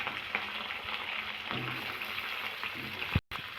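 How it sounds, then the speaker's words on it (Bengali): Pointed gourd (potol) frying in hot oil left over from frying potatoes, a steady close sizzle and crackle running throughout with a brief dropout near the end. "ওই তেলে আমি পটলগুলো ভেজে নেবো।"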